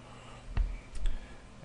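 A computer mouse gives a couple of soft clicks, close and quiet, in an otherwise still room with no voices.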